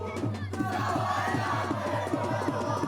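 Ultras football fans at an 8-a-side tournament match, a loud crowd chanting and shouting together in a rhythmic, pulsing roar that is sustained throughout.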